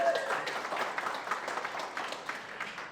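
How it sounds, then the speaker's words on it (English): An audience at a talk applauds with a fairly soft, steady patter of clapping that holds for a few seconds, with faint voices mixed in. "let's give a round of applause"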